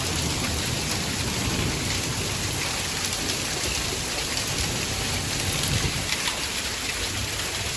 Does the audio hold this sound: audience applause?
no